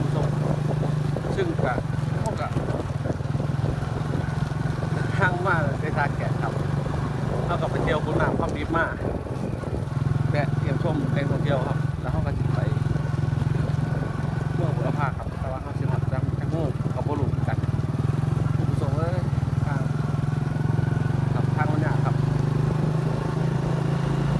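A steady engine drone from a large motorcycle running continuously in the background, with wind buffeting and someone talking throughout.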